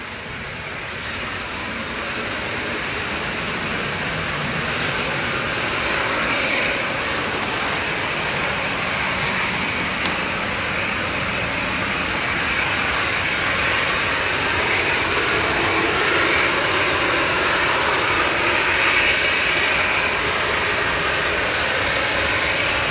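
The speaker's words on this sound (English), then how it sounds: "He must have an imminent slot because is- he would have shut down by now. This Ryanair." A Ryanair airliner's jet engines running on the ground at Manchester Airport, a loud continuous roar and whine that holds steady and swells slightly, heard close with no voices.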